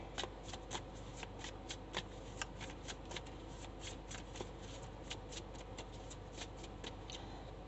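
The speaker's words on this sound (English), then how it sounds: "Let's pull a manifestational card" Tarot cards being shuffled by hand in a steady, rapid run of crisp riffling flicks, close and fairly quiet, continuing alone without speech.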